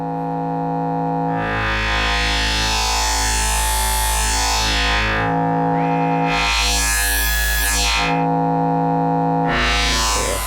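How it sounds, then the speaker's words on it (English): Instruo Cs-L Eurorack synth module summing two sine waves into a wavefolder: a loud, sustained buzzing drone whose harmonics sweep up and fold back in repeated swells, with no talking. "the complexity in waveforms that you get from summing two sine waves before a waveform is quite dramatic"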